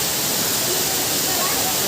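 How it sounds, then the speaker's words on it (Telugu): A large main waterfall tumbling down between hills in a forested agency area of Andhra Pradesh, India, gives a steady, loud, unbroken broadband roar of rushing water that fills the whole clip. "మీకు water fall main water fall చూపిస్తున్నా చూడండి"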